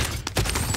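Rapid bursts of gunfire crack out in a Call of Duty Plunder match, several loud shots in quick succession with brief gaps between them.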